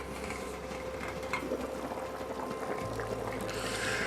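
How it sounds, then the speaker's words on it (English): A pot of vegetable soup boiling briskly, giving a steady low bubbling and simmering wash that is faint and continuous, with no voices. "as you can see, I'm boiling it quite briskly"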